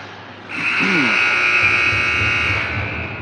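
A loud, sustained electronic buzzer ends a period at an under-18 hockey game, blaring for a few seconds after a brief muffled moment, with faint crowd noise underneath.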